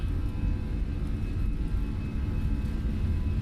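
Airbus A320 jet engines at takeoff power in Microsoft Flight Simulator, a steady, loud, low roar with a faint high whine held constant throughout, no talking.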